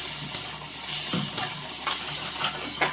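Spice paste with turmeric fries in a pan for a tengra fish curry, a steady close sizzle broken by regular scraping stirs, with no voices.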